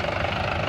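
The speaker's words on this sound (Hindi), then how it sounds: "ये देखिए ट्रैक्टर खुद से यहाँ पे कैसे चल रहा है।" A Mahindra 585 DI tractor engine runs steadily at close range, a continuous loud diesel chug with a fast, even knocking pulse and no voices over it.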